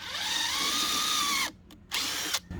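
A power drill drives screws into wood while a rod storage box is built in a minivan: a loud, steady motor whine for about a second and a half, then a brief stop and two shorter bursts.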